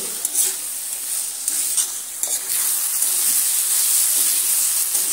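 Spices, ginger and garlic stir-fried with tomato in oil in a wok for a flat bean bhaji: a steady hiss of sizzling with a few scraping stirs of the spoon, close and alone without any voices.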